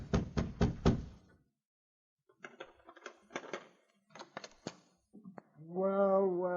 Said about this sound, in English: A few moments later, the sergeant knocked on Baird's door.